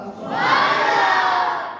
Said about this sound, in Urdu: خوشی میں نعرے لگائے جاتے ہیں، بولو سبحان اللہ۔